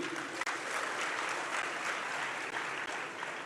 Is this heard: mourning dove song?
no